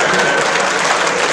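Audience at a political evening event with the Lagos State governor present breaks into loud, dense clapping, a steady wash of applause filling the whole moment with no pauses.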